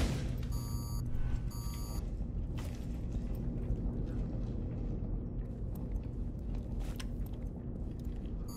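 An object in a competitive shooter video game beeping repeatedly, a quick pair of high electronic beep clusters near the start over a steady low game rumble, with no talking.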